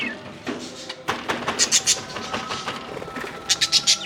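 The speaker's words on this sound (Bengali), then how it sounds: "পাখিগুলো একটু মারপিট করছে" Breeding aviary birds fighting and fluttering, with bursts of wing flaps, scratching and short sharp calls close up.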